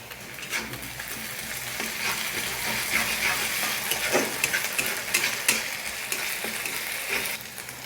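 Ginger garlic paste fries with chopped onion in a pan, a loud continuous sizzle broken by stirring scrapes and the clink of a spoon, with no voices.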